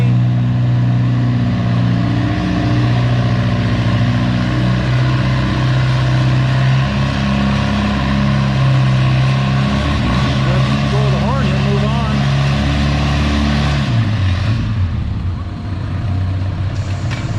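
A Farmall C tractor roars under load at a tractor pull, its engine droning loud and steady with a deep laboring tone, then dropping in pitch near the end, while an announcer talks over it.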